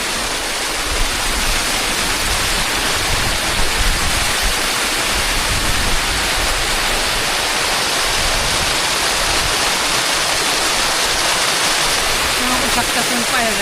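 Water rushing down stone steps on a monsoon trek to Tung fort, a loud, steady broadband roar that fills the whole stretch without a break.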